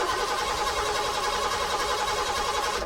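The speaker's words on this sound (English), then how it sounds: "He leaps into his car, tries to start it." A car engine cranks and churns continuously, trying to start, a steady mechanical grinding with no pauses through the short stretch.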